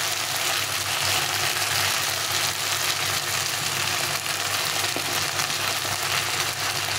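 A paste of ginger, cumin, chili and coriander fries in hot oil for a fish curry, giving a constant, even sizzle close by with no talking over it.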